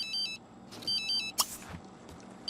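A phone rings in The Sims 3 video game, sounding as a repeating electronic ring of short high tone bursts at low level, with a brief click in between and no talk over it.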